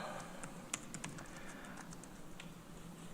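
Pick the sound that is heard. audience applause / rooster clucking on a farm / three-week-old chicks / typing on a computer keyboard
typing on a computer keyboard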